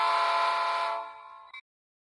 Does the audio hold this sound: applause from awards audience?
no